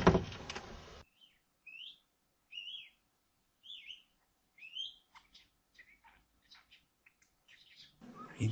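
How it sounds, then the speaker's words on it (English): A native Australian budgerigar gives a series of short, bright chirps and warbles with gaps between calls, fairly close and clear, with louder rustling bursts at the start and end. "native Australian budgerigar, commonly known as the budgie"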